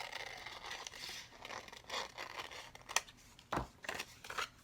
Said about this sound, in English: So I can cut off a little bit more here.